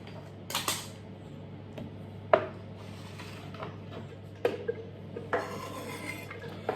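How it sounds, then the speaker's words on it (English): Prawn mixture is scraped into a kitchen gadget, with utensils clinking and tapping against metal and a bowl in scattered close knocks over a steady background hum. "if you want to pop that into the gadget, just scrape it all in"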